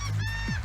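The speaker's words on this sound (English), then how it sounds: "We got seagulls laughing at us right now." Gulls calling at Dead Horse Bay's Bottle Beach in New York, a loud close honking squawk with a short second call following, no talk.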